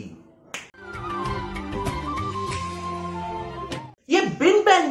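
A short, sharp finger snap, heard close and fairly loud, cuts into a strong musical background at about half a second; another bright snap follows near four seconds, just before a voice speaks over the music.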